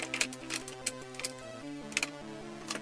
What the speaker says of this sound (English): Next, we'll put the keyboard back in the case.